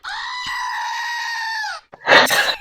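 A squeezable stress-relief toy goat is pressed and lets out one long, loud, screaming bleat. A short noisy burst follows it, heard alone at close range.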